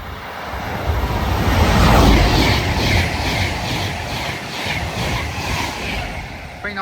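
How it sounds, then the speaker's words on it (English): A West Coast passenger train runs from Liverpool Lime Street to London Euston past the platforms at Nuneaton on the West Coast Main Line, a loud, steady roar of wheels and motors swelling near two seconds and holding with a rhythmic clatter. "Soon to come through now will be a Phantom West Coast service going from Liverpool Lime Street to London Euston"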